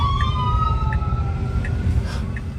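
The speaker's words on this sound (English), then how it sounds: "The robotaxi just pulled over for the ambulance." Ambulance siren wailing as a robotaxi pulls over on a city street, a loud rising-and-falling electronic tone sweeping steadily, close by, with traffic rumble beneath and no talk.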